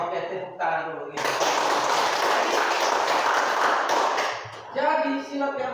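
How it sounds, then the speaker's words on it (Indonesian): Group of people clapping in applause at a school gathering, a dense, loud burst of hand claps lasting about three seconds, with voices speaking before and after. "Oke, tepuk tangan dulu gitu"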